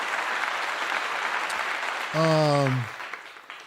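A short burst of clapping plays for a couple of seconds, followed by a brief voiced tone.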